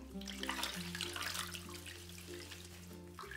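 Water running steadily from a tap while a stuffed toy bunny is washed with scented soap, a continuous close splashing wash with a low hum underneath, no talking.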